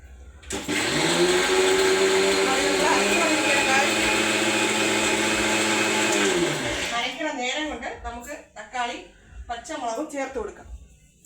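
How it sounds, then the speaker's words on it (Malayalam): A mixer grinder whirs loudly and steadily while grinding curry paste for a Kerala curry, then stops and gives way to a person talking. "അടുത്ത് നമുക്ക് കറി അരച്ചിട്ട് വരാം"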